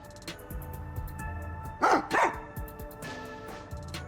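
Dog in the video game Master Detective Archives Rain Code gives two sharp, clear barks in quick succession over quiet ambient music.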